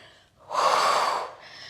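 A steady, breathy exhale during a Pilates abdominal twist in a core workout, swelling loudly for under a second, then easing into quieter breathing.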